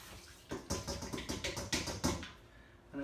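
Pulled noodles drop into a bowl of cold water, giving a series of sloshing splashes and watery clatters at close range, fading toward the end.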